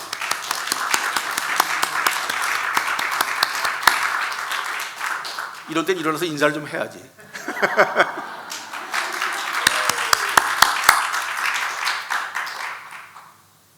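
A church congregation bursts into applause twice during a sermon, bright crowded clapping in short swells, with a pastor's voice speaking between and over the rounds.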